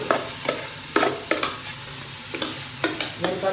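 Half-cooked mixed vegetables for a vegetable dum biryani fry in oil in a pan while being stirred, giving a steady soft sizzle broken by repeated scraping strokes of the spoon, with no talking.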